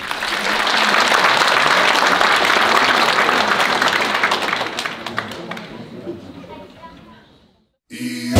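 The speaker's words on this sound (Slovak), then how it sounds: "Veľký potlesk!" Loud, dense audience applause fills a dance school's half-year show as a Dominican Republic dance is introduced, holding steady for several seconds before thinning out and stopping, with music starting at the very end.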